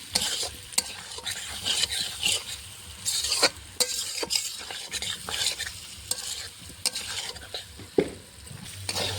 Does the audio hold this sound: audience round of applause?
no